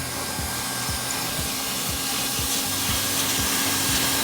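A hot air welder blows a steady, loud roar while seaming single-ply roofing membrane, with a rhythmic low thumping repeating under the constant hiss throughout.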